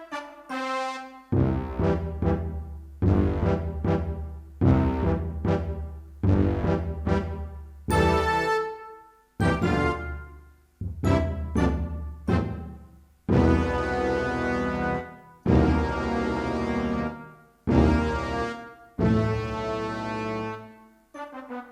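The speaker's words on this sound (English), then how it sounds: "So it's basically bass drum, clarinets, triangle" A synthesized marching band patch plays repeated short chords and sustained blasts, with punchy bass drum hits, triangle, cornet and clarinet tones in a steady march rhythm.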